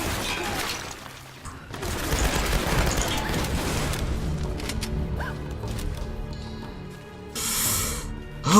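Bursts of rapid gunfire and impacts from the 2013 Tomb Raider video game, a dense noisy volley lasting several seconds with a brief spray-like burst near the end, largely without speech.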